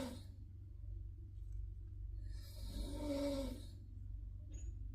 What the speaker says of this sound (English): you snoring too much